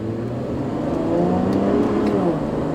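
Engine of a 2012 Chevrolet Camaro 2LT held at quarter throttle in sport mode, a steady loud droning hum that rises slightly and stays continuous throughout, heard from inside the car.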